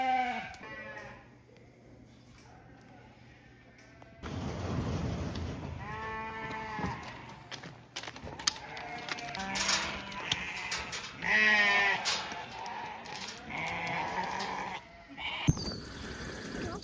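Sheep bleat repeatedly and loudly, several voices overlapping near and far while a flock is sorted and separated, with rustling and movement around them.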